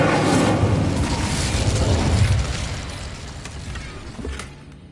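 An Incendio fire spell from Hogwarts Legacy bursts into a loud, roaring blast that rumbles for a couple of seconds, then decays into a softer crackling tail with a small late pop.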